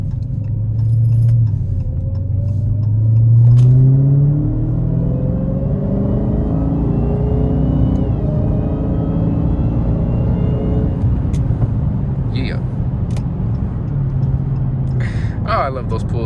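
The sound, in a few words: Dodge Charger Hellcat engine rumbling while driving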